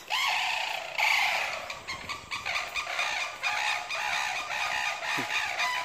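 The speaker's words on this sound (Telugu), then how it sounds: "నా వెనకాల కొన్ని పక్షులు అనేది సౌండ్ చేస్తున్నాయి." Fowl calling at Nehru Zoological Park in Hyderabad, with rooster-like crowing and clucking rising over a steady bed of chirping and chatter from many birds nearby, continuous and fairly loud throughout.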